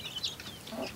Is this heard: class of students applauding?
no